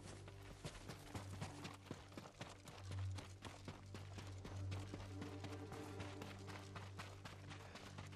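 Horse hoofbeats from the samurai video game Ghost of Tsushima: a rapid, steady clip-clop of galloping hooves runs throughout over a low, sustained backdrop of music and ambience.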